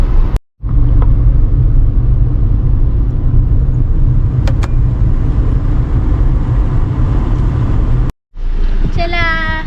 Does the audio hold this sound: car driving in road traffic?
yes